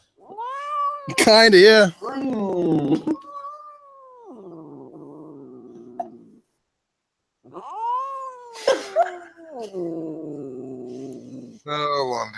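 A cat meows and caterwauls loudly and up close in long, drawn-out, wavering wails, with pauses between the cries and brief human talk in between.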